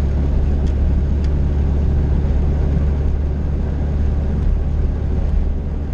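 Honda CRX with a failing transmission driving on the road, a steady loud engine and road drone with rumbling low end throughout, a few faint ticks over the continuous noise.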